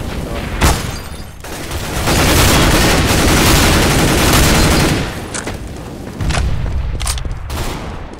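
A Counter-Strike: Global Offensive firefight with a sharp early blast followed by a dense, loud burst of rapid gunfire and explosions, then scattered individual shots toward the end, close and intense.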